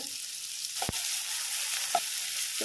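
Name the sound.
onion and garlic frying in hot oil with cumin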